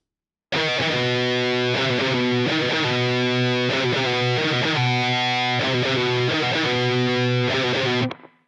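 Heavy distorted electric guitar in standard tuning on a 6-string chugs through the third breakdown riff of a song, loud and sustained, with rhythmic palm-muted stops and no voices.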